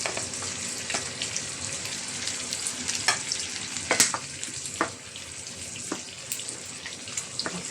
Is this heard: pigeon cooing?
no